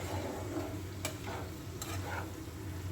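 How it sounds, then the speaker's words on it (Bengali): Ginger and cumin spice paste stirred and sautéed in a pan while cooking bottle gourd with prawns, a continuous soft sizzle with a few scraping spatula strokes against the pan, close up, no talk. "মশলাটা দিয়ে ভালো করে কষাতে হবে, যাতে না আদার কাঁচা গন্ধ থাকে"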